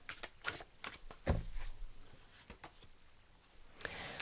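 Soft rustling and riffling of a large tarot deck being shuffled in short bursts, fairly quiet and close, with a few sharper snaps.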